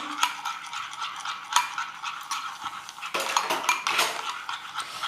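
A utensil scrapes and clatters against a bowl as pasta salad is tossed with dressing, giving irregular close-up rattles and clinks with a busier burst of mixing near the end.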